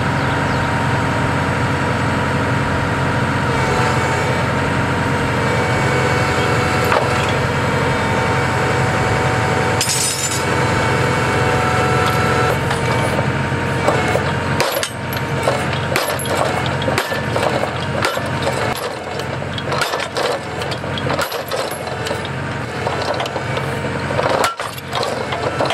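Steady, loud mechanical drone of a powered driver hammering a spike into the ground to set a Strainrite Harpoon ground anchor, with sharp repeated impacts later in the clip.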